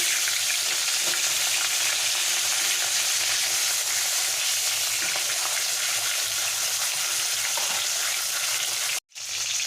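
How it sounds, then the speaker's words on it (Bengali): Steady close sizzle of katla fish frying in oil in a pan after being turned over, loud and continuous with a few faint stirring knocks and a short break near the end. "মাছের একটা পিঠ ভাজা হয়ে গেছে মাছটাকে উল্টে দিচ্ছি"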